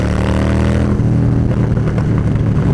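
A Harley-Davidson Dyna Street Bob motorcycle engine revs loudly and close by, a deep throbbing roar broken by a run of sharp exhaust pops in the second half, with no talk over it.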